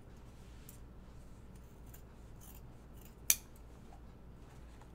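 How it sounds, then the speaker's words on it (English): Scissors make one crisp, close snip through a fabric fly shield while a pair of shorts is sewn, set against a faint, steady room hum. "I'm gonna cut my fly shield here, flush."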